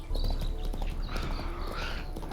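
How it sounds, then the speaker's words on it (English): Hoofbeats from Roach, Geralt's horse in The Witcher 3: Hearts of Stone, clop steadily and close up, with a snort or whinny rising partway through over a low rumbling game background. "Spooking my horse."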